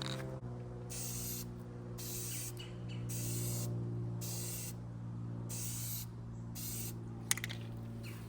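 Spray paint goes on in a light coat over a racing lawnmower hood, with several short close hissing bursts separated by pauses over a steady low hum.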